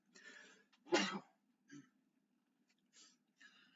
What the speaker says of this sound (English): I'm already sneezing during the live stream.